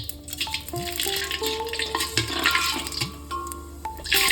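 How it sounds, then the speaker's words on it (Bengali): Whole spices for tempering dropped into hot oil over a lowered gas flame for Eid handi mutton and basanti pulao, giving a steady close sizzle and crackle, with soft scraping and faint tonal whines running underneath. "এরপর আস্তে আস্তে ফোড়নটা দিয়ে দেবো। সব আমি একসঙ্গে দিয়ে দিচ্ছি।"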